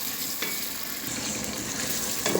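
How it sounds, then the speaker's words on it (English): Onions fry in a hot pan for party fried rice, a steady, loud sizzle with a few soft stirring scrapes, with no voices. "So now we'll be adding our onions. We have to stir it."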